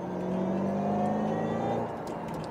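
Revving V8 of a 2008 Shelby GT500 heard from the cabin, a loud droning engine tone that holds and climbs steadily, then eases off near the end, alone without talk.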